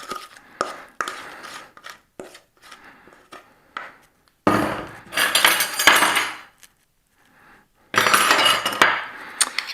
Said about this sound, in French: Avec la cuillère pour racler.